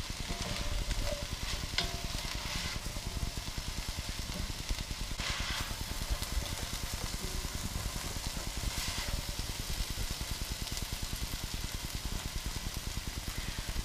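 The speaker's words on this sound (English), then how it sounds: "While the vegetables are being sautéed, you don't have to stir them constantly, but I like to keep them moving a bit." Vegetables sauté in a hot pan for ham and bean soup, giving a steady close sizzle with a few scraping stirs now and then, no talking over it.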